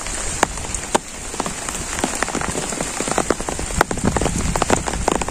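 Storm rain pours on surfaces in a rural village, a dense steady patter broken by sharp, louder drops and splashes close by, with no voices.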